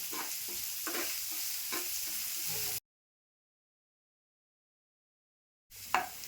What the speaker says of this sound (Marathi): आता चांगला कांदा एकदम असा नरम होईपर्यंत भाजून घ्यायचा